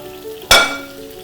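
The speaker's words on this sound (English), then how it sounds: "You get that sizzle." Roasted vegetables tipped onto a preheated sheet pan give a sudden loud sizzle that bursts at once, then fades to a softer steady frying hiss over the rest of the moment.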